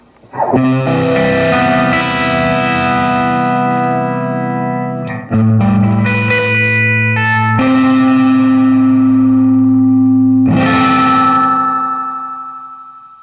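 Sustained electric guitar chords through an Ibanez AD-80 analog delay pedal set fully wet, smeared by heavy echo, repeats blending into a thick wash, with several new strums and a long fading tail.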